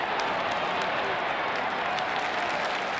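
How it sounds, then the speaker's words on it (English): A big crowd at a Bison college football game in the Fargo Dome roars steadily after a punt, a dense wash of cheering with no break. "followed by a roar of the Bison crowd."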